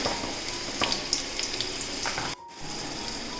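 Chana dal and urad dal fry in ghee with a steady, gentle sizzle and a few soft crackles, briefly cutting out near the end.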